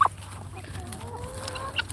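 Chickens cluck softly in short scattered calls over a steady low background hum, fairly quiet and at a moderate distance.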